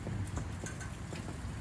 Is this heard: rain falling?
yes